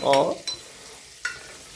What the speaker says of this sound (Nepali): मुखै पोल्ने पिरो खुर्सानी फ्राई भइरहेको छ।